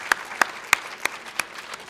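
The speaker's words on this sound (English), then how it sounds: "give him a round of applause." Sparse, scattered handclaps from a small audience at a student debate event, a few separate claps spaced out over two seconds rather than a full ovation.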